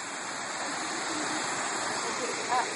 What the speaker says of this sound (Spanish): Esta es la cascada escondida.